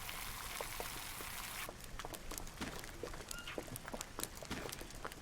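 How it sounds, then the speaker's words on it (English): Boiled, clean water pours into a coconut until it is full: a steady rushing stream for the first couple of seconds, then scattered splashes and gurgling drips. No voices. "we can fill this coconut up completely"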